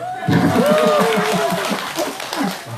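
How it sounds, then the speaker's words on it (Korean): A crowd at a Wednesday rally in Soseong-ri gives a round of quick rhythmic clapping, close and moderately loud, while a voice talks over it. "다시 한번 박수 좀 주세요"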